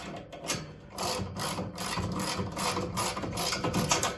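A ratchet tightens bolts on a Predator 9000 watt generator during a propane and natural gas conversion. It makes a close, continuous stream of rapid clicking and rasping with no talk.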